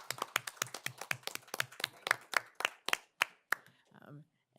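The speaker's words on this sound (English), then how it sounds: "I'm just going to give her another round of applause" Attendees at a school board of trustees meeting applauding a new superintendent: a small group's quick, fairly quiet claps in a rapid rhythm that thin out and stop after about three and a half seconds.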